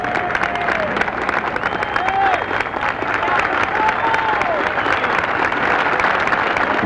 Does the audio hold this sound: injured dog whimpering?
no